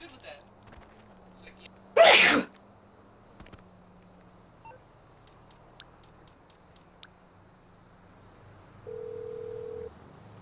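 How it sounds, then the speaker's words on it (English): A single loud, sharp sneeze blasts close into a microphone during a GTA gaming session, standing out sharply against a quiet room hum, followed by faint clicks and a brief steady electronic tone. "my mom just sneezed into my mic as well"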